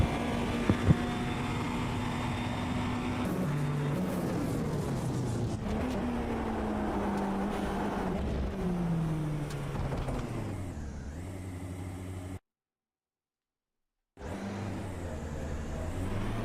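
A P2 prototype race car in a racing video game at Le Mans cranks up, its engine catching and revving with rising and falling pitch sweeps, cutting out briefly before roaring back.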